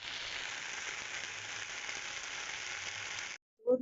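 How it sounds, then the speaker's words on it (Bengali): Papaya and potato pieces fry in a pan with a continuous even sizzle that cuts off abruptly, followed by a short knock. "এই যে পেঁপে আলু ভাজা বসিয়ে দিলাম, পেঁপে আলুটা ভেজে নেবো"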